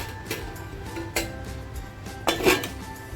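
A metal lid goes onto a pan of chicken patoli mixture. Three or four separate clinks and knocks ring out over a low background hum, with the last contact the loudest.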